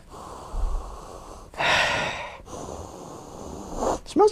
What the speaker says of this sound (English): let's give this a sniff